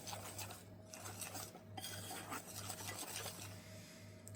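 Compote and skyr being mixed in a bowl, a spoon scraping and clinking against the sides in quick uneven strokes, close and quiet over a low steady hum.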